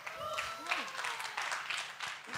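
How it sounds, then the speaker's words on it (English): Audience clapping for a guest at a literature festival panel, moderately loud and continuous, with a voice talking over it. "I think the claps say it all"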